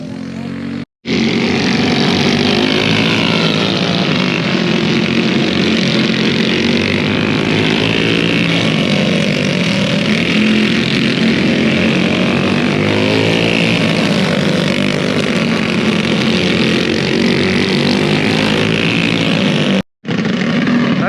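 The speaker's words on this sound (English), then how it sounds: "Got some engine problems with my go-kart." A go-kart engine with a fault runs continuously on a race track, giving a loud, steady buzzing drone that fills nearly the whole stretch and cuts out briefly twice, with no voices over it.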